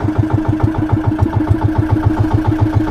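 Boat engine at Mercedes fishport chugging steadily, a loud close rhythmic thump at an even idle pace, repeating without break through the whole stretch.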